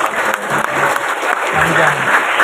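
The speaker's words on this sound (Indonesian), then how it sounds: "Beri tepuk tangan yang paling meriah" Applause from the audience at a Bank Indonesia event in Cirebon, a short, lively wash of clapping with a steady high tone and faint voices underneath.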